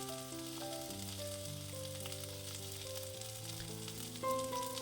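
Grated beetroot with coconut and fennel seeds fries gently over a low flame for a Kerala thoran, a soft continuous sizzle beneath steady background music.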